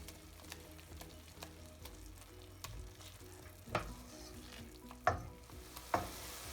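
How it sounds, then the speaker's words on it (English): Cooked tomatoes mashed with a spoon in a pan on very low heat, a quiet low simmer with soft repeated scrapes and three sharper clinks of the spoon against the pan toward the end. "Now we can just mash them with the help of spoon."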